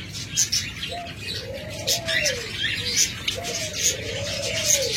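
Caged breeding pairs of lovebirds and doves call in repeated rising-and-falling coos mixed with sharp chirps, several birds close by against a busy background.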